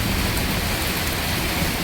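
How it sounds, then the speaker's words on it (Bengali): Heavy rain pours steadily during a night thunderstorm in a rural Bengali village, a dense, loud, continuous wash of drops with no break and no voices. "খুব জোর বৃষ্টি হচ্ছে"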